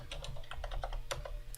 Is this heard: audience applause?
no